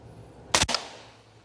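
A single close, sharp rifle shot from a 6mm ARC with a 16-inch barrel firing 105 grain rounds, a loud crack followed by a quick echo that fades over a quiet outdoor background.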